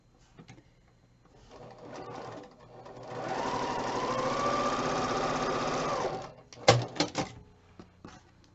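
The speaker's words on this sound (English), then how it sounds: "So this one I'm going to sew from the top right to the bottom left." A sewing machine runs steadily for several seconds, stitching quilt block pieces diagonally for a Christmas block. The motor whirs at an even pitch, then stops, followed by a few sharp clicks and taps up close.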